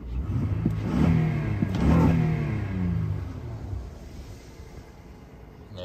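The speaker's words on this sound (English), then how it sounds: "When you give it a couple revs, of course it gets loud there." A Lexus J-series engine, shortly after a cold start, is revved twice in quick succession, rising loudly each time and then settling back toward a steady idle rumble; no one speaks.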